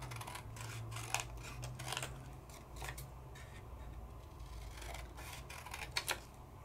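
Scissors trimming a sheet of glitter paper at a crafting table, a series of crisp snips and clicks spaced irregularly over a low steady hum, close and fairly quiet.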